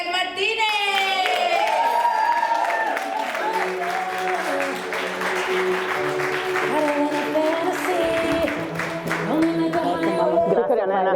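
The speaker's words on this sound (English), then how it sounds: "Give her a round of applause for Soribel Martinez!" An audience applauds a speaker, a dense wash of clapping that holds steady for several seconds, with a voice talking over the ovation and music underneath.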